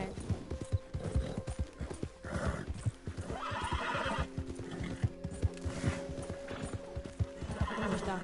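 In a video game, a horse's hooves clip-clop steadily as it rides, with repeated neighs and whinnies over the rhythmic hoofbeats and some game background sound.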